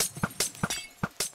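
In Minecraft, splash potions thrown from an auto dispenser burst in quick succession, giving about six short glassy shatters in a fast, even rhythm. They are brief and fairly faint, with no voices.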